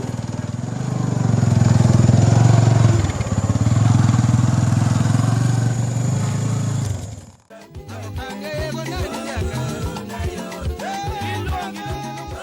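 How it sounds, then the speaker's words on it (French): A motorcycle ridden through the bush in Congo, its engine droning loud and close with a low rumble that dips briefly, then a sudden cut to a different section where the engine is quieter, buried under other overlapping sounds. "On s'est commandé une moto qu'il faudra conduire dans la brousse sur 50 km."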